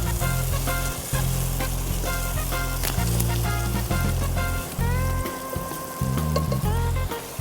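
Beef chunks frying in a pan with deep-browned fried onions make a loud, constant sizzle with occasional stirring scrapes, close up and steady throughout.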